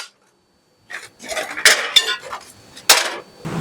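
A small breakable china pot is handled up close, clattering and clinking loudly in a few irregular bursts after a brief silence.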